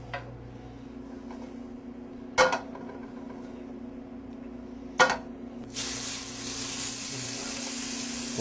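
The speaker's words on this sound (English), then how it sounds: "We'll hear that nice sizzle." Boneless short ribs hit a hot pan of vegetable oil with a little olive oil. After two sharp clunks, a loud, steady sizzle bursts in and continues to the end.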